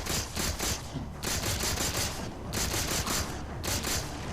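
Rapid plasma pistol fire in the Halo 4 campaign: dense, continuous volleys of shots in several sustained bursts with short pauses between them, loud and with no talk over them.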